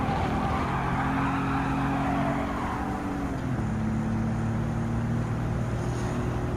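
A 1964 Aston Martin DB5 in Gran Turismo 7 drones along at Goodwood, its steady engine note holding then shifting pitch as it changes gear, continuous and close with no talk.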